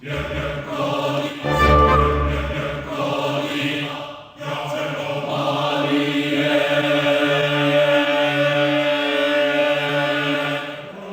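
Sustained orchestral strings and brass from a sample library with a warped, smeared quality as the sound stretches under a tempo change, a brief heavy low swell early on, then continuous layered chords without talk.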